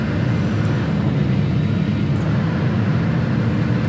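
Boeing 777-300ER jet engines roar in the flight game Project Flight, a loud, steady broadband rumble that holds constant throughout.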